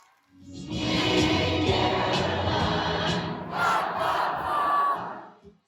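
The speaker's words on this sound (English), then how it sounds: "And in the timeouts, a little group sing-along." A crowd of fans at a basketball game sings and chants together during a timeout, a loud, sustained mass of voices with a swell near the end before fading.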